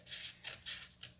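Scissors snip small boxes into cardstock for a Stampin' Up Sea of Textures craft project, three quick, close, crisp cuts in a soft rhythm.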